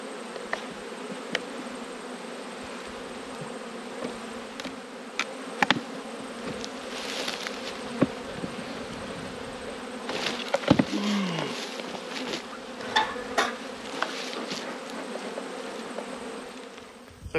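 Honey bees at an opened hive with a vented bottom board, a steady buzzing swarm close by with scattered louder passes of individual bees throughout.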